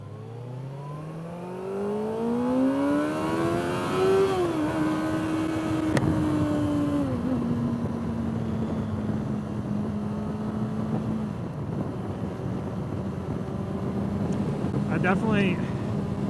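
A 2024 Kawasaki 636 motorcycle engine rises in pitch as it accelerates on a test ride, then holds a steady cruising drone with wind rush, and a rider talks over it throughout.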